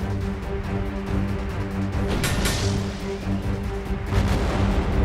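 Cartoon missile explosions rumble loudly over a steady mechanical drone, with a sharp bright blast in the middle and dense booms and crackles throughout.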